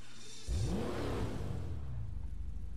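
A Z car engine in GTA 5 suddenly roars to life and revs hard, pitch sweeping upward, then settles into a loud sustained drone with no talking.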